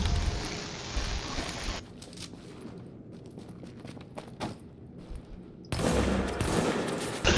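Rapid automatic gunfire from a cheating player's gun in an online shooter game, dense bursts loud at the start, dropping to quieter scattered shots mid-clip, then a loud dense burst returning near the end.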